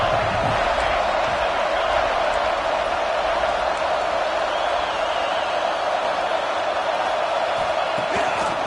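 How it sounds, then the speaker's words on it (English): Football stadium crowd at a college game between Penn State and Michigan, a dense continuous roar that holds steady and loud throughout, with a play-by-play voice underneath. "The crowd really making some noise now, trying to help out this defense to get this stop near the goal line."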